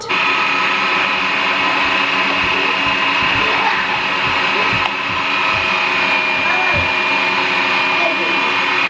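An electric meat grinder runs steadily and loudly throughout, grinding meat into a smooth paste during home cooking, with a constant motor whine and no pauses.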